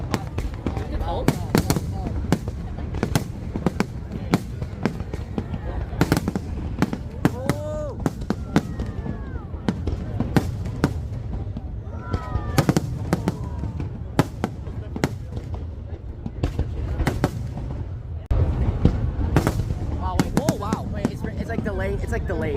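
Fireworks burst over a July 4 drone and firework show in Boston, with loud repeated booms and crackling bangs in rapid succession, while people nearby talk and exclaim throughout.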